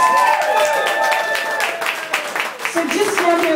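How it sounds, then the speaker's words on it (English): An audience at a music and fashion show claps for a performer, brief lively applause heard under and between a presenter's talking. "So I think we should give her a big round of applause"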